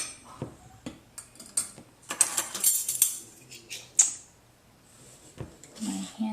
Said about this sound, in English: Sugar goes in.